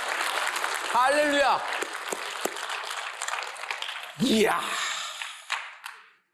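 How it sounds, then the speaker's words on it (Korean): A church congregation breaks into applause during a sermon, a dense wash of clapping that swells, briefly gives way to spoken exclamations, then surges again before fading out near the end. "여러분, 우리 하나님께 영광의 박수 한번 하죠."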